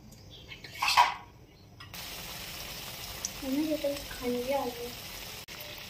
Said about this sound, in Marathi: हे वडा थोडासा चपटा करून डीप करून घ्यायचं आणि गरम तेलामध्ये सोडायचं